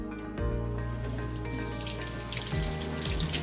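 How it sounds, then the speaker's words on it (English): Tap water runs steadily over a greasy apple at a kitchen sink, a close, continuous splashing hiss with no talk. "I'm just washing it with water"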